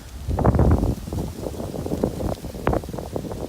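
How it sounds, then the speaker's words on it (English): Wind buffets a GoPro Hero7 Black microphone with low rumbling gusts that rise and fall, loud and close, with no voices. "Super windy."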